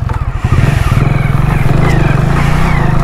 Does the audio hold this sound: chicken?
no